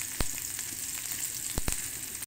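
Garlic, onion and curry leaves frying in oil for aval upma: a steady, close sizzle with a few sharp pops and stirring clicks, no voices.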